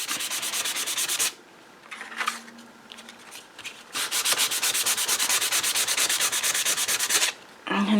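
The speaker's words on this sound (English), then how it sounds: "So I just go through and sand them just like that." Sanding by hand with long, steady, rasping strokes, close and loud, broken by short pauses and quieter scratchy rubs in the middle, then resuming in a long continuous run.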